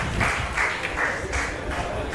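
Spectators at a curling World Cup final in Trentino clap after a good shot, a short burst of applause that swells and fades in waves, mixed with arena ambience and faint commentary underneath.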